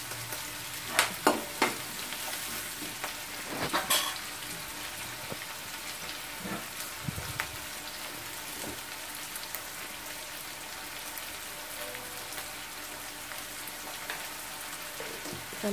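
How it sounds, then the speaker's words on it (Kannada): Onions fry in a pan for beetroot palya, a soft continuous sizzle with scattered crackles and a few louder stirring scrapes near the start, fairly quiet and close, no talk. "ಅದನ್ನೆಲ್ಲ ಹಾಕಿದ್ಮೇಲೆ ಸ್ವಲ್ಪ ಫ್ರೈ ಮಾಡ್ಕೋಬೇಕು ಅದು ಈರುಳ್ಳಿ ಎಲ್ಲ."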